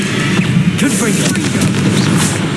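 A Confringo blasting spell goes off in a wizarding adventure game, a loud booming explosion with rumbling low thuds and crackling debris, layered over other game effects.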